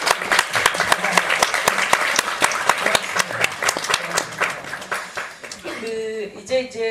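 An audience at a policy talk concert claps in a lively round of applause, with distinct individual hand claps up close that thin out toward the end, where a voice begins speaking.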